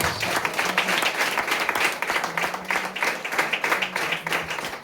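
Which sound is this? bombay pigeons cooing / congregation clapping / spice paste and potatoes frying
congregation clapping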